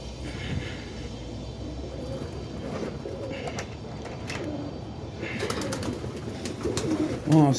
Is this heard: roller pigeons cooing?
yes